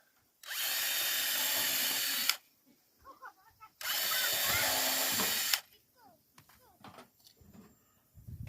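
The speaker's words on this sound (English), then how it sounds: "Pre-drill it." A power drill whirs in two sustained bursts, pre-drilling holes in wood for a hoop coop build, with quiet handling noises between them.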